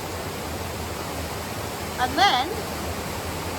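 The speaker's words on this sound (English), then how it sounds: "So first they've let the water in from the ground paddles, so it's bubbling up." Water churns and bubbles up from the ground paddles of a canal lock, a steady broad rushing wash heard from a narrowboat, with a brief spoken voice over it.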